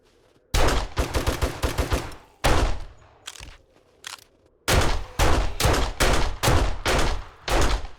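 Gunfire in the zombie survival game 7 Days to Die comes in rapid bursts of loud, sharp shots, several volleys separated by short pauses, close by.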